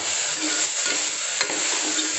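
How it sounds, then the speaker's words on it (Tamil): Rice and dal mixture stirred in a hot pan, a dense continuous sizzle with scraping strokes, close and loud, no speech. "சேர்த்துட்டு நல்லா கிளறி விட்டுருங்க."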